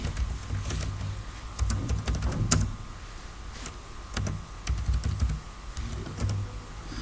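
Someone types a report title in a Microsoft Access database on a computer keyboard. Irregular light key clicks come in short runs over a low background hum.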